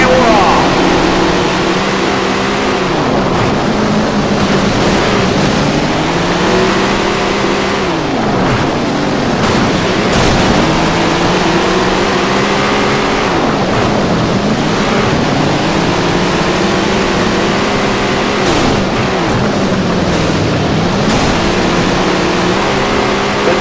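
Race cars roar around a muddy dirt track in the racing video game Tony Stewart's All-American Racing, their engines loud and close with repeated rising and falling revs as they accelerate through laps, a commentator talking over them.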